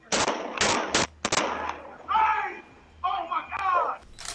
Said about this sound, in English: the device records the sound of gunshots and people screaming